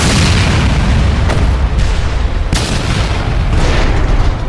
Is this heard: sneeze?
no